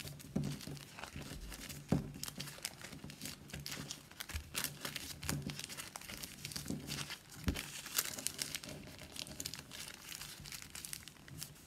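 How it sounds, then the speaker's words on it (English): Stacked pieces of material being folded and flipped by hand, making close, repeated crinkling and rustling with soft crunches in an uneven rhythm. "You're going to start folding from the top. Fold and flip, fold and flip, fold and flip."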